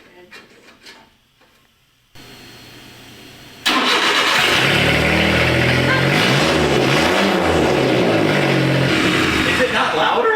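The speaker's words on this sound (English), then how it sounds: "There's my bazooka exhaust. Hey, let's start it with just this piece on." A 1999 kei truck with a custom bazooka exhaust starts up indoors after some quiet handling noise, then settles into a loud, steady, echoing idle that runs to the end.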